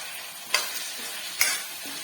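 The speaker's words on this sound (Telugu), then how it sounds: "ఒక 10 minutes వరకు ఇలా ఫ్రై చేస్తే బాగా ఫ్రై అవుతాయి మటర్." Peas and potatoes fry in a pan for a mutter paneer curry, giving a steady close sizzle, with two sharp stirring scrapes about a second apart and no talk.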